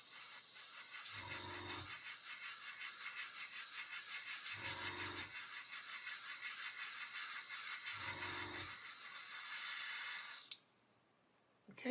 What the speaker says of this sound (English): So what we need to do is spray a tangential spray across